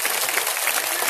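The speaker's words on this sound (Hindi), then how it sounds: "इसलिए आप इनके लिए भी जोरदार ताली बजाएं" An audience at a Hindu devotional gathering in Noida breaks into loud, dense clapping, a brief burst of many hands at once with no voices over it.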